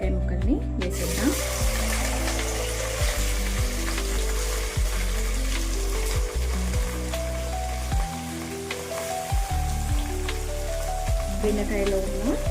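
Long, thin okra slices dropped into hot oil and frying, a constant crackling sizzle under a low, droning hum, with a voice speaking over it.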